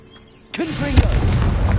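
Confringo fire spell in the game Hogwarts Legacy, a sudden booming blast after half a second of quiet, followed by a loud crackling, rumbling burst that sustains to the end.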